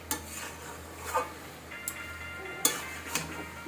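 Spoon scraping and stirring ghugni in a pot on the stove, a few distinct metallic scrapes and knocks spaced apart over a low steady hum.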